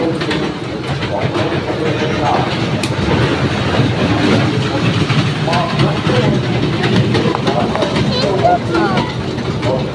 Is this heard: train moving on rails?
yes